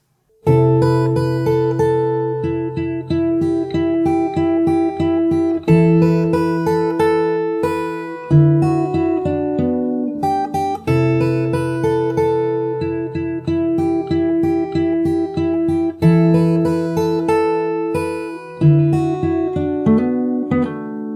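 Plucked guitar notes and strummed chords on acoustic guitar, a verse played fingerstyle at an unhurried, steady pace, ringing clearly with no voices.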